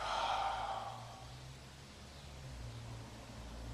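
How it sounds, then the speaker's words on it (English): A single long, soft exhale during a deep-breathing stretch, close and breathy, fading over a few seconds against faint room hiss with no talking. "you're going to do some cycles of deep breathing"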